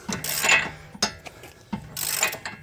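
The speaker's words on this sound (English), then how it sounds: "you can basically just get it with the ratchet pretty easy at this point" A ratchet turns during a front wheel bearing replacement on a 2013 Hyundai Sonata, with close, loud clicking strokes in several bursts and brief pauses between them.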